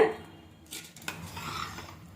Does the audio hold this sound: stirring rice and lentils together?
yes